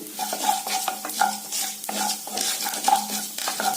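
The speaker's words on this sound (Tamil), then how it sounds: "கடுகு, வெள்ளுளுந்து பருப்பு, கடலை பருப்பு கொஞ்சம், சீரகம் கொஞ்சங்க, இதெல்லாம் நல்லா பொரியிட்டுங்க" Mustard seeds, urad dal, chana dal and cumin frying in hot coconut oil for a radish poriyal, a steady close sizzle with quick spoon stirs and scrapes, no voices.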